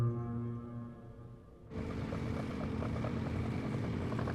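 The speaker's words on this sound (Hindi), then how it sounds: "देखा जाए तो ये ट्रैक्टर 30 किलोमीटर की स्पीड से चल रहा है" A tractor engine runs at about 30 km/h with a steady droning hum and a loud broadband rumble that starts abruptly partway through. Tonal music plays before and under it, and no one speaks.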